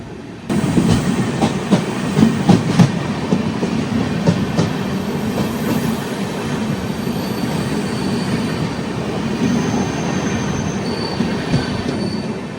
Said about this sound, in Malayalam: ബംഗളൂരു ഇന്റർസിറ്റി പോകുന്നുണ്ട്.